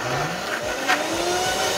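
A blender runs on full blast, whirring loudly and steadily as it purees a green herb mixture, the motor pitch shifting slightly through the blend.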